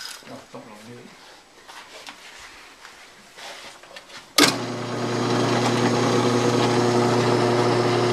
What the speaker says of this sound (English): So then what I do is just drill a hole down through the top.